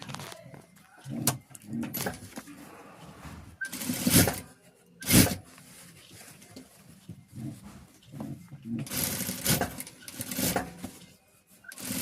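A sewing machine runs a line of stitching around a blouse lining in short irregular bursts, close and moderately loud, with gaps and clatters of handling between runs.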